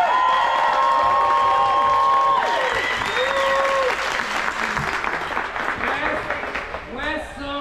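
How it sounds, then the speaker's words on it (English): Clapping and cheers from a crowd of parents and children greet young Pee Wee volleyball players after a West Zone championship game, loud and sustained, with whoops and children's voices mixed in as the applause gradually thins. "Big round of applause for the kids who had a great game."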